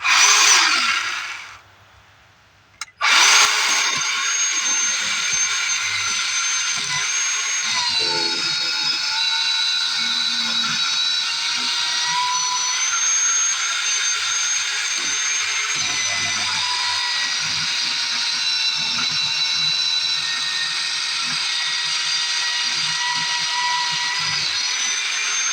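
A Harbor Freight Bauer 20-volt cordless chainsaw cuts a slice from a log of wood, its whine close and loud, broken only by a brief stop and restart near the start, then a long steady cut.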